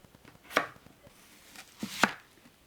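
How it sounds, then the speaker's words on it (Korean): A knife chops roughly through potatoes on a cutting board for a Korean potato gochujang stew, with two distinct crisp thunks close by against a quiet kitchen and no talking. "감자 4개를 썰어 주세요."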